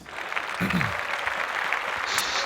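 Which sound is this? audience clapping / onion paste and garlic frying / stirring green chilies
audience clapping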